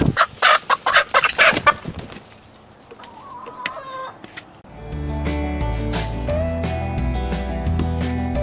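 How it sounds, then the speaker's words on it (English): A chicken stuck in a greenhouse shared with rabbits clucks in a loud burst of sharp, rapid squawks, then falls quiet before a busier stretch of layered clucking and shuffling movement, with no talk. "This chicken is so dumb."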